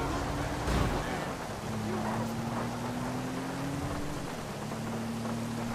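Steady rain hiss in GTA 5 fills the scene, with a low engine hum from a jeep running underneath and a brief thump early on; the downpour stays even and moderately loud throughout.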